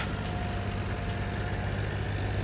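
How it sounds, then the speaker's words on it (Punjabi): A John Deere 5075 tractor engine idles nearby with a steady low, throbbing rumble that holds constant throughout. "ਆਹ ਟਰੈਕਟਰ ਐਵੇਂ ਚੱਲਦਾ"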